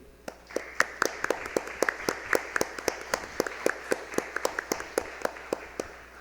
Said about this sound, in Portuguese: eu peço uma salva de palmas para o professor Udo.